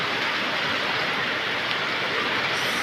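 Rain falls steadily outside a house, a dense, even hiss of drops that stays loud and unbroken throughout.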